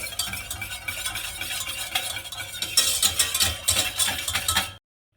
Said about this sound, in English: Just gonna give this a stir